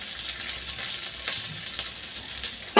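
Cashews and raisins fry gently in ghee on a low flame, giving a steady soft sizzle throughout with a few faint stirring scrapes, ending in a louder knock or clatter at the close.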